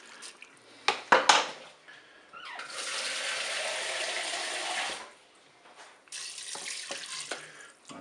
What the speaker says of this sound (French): maintenant on va mettre de l'eau pour recouvrir les ingrédients